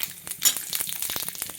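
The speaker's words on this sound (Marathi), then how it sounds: "आता आपण इथं मोहरी टाकून घेऊया तळण्यासाठी" Mustard seeds and cumin hit hot oil in a pan, making a quick run of crackling pops and sizzle. The sharp little bursts come close together over a light hiss.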